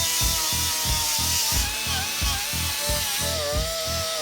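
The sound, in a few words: power tool stripping paint off truck cab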